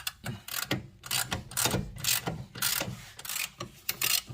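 A ratchet wrench turns a bolt on the rear strut of a Subaru Forester, giving rapid, close, rhythmic clicking strokes repeated steadily throughout.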